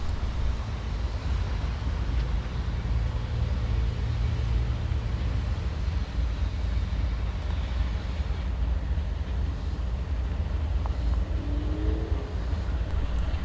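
Freight train M224 hauling auto racks creeps around a curve, a steady low rumble with broad noise and a faint squeal near the end, continuous throughout.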